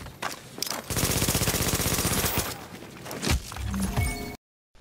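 MP7 submachine gun firing in The Division video game, a loud rapid continuous burst of automatic fire lasting a few seconds, followed by a few scattered clanks before cutting to silence.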